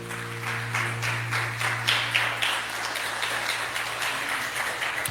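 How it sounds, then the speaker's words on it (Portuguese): A church congregation applauds during a sermon, a dense wash of many hands clapping steadily at moderate level, with a low sustained hum underneath throughout. "Você pode aplaudir ao Senhor?"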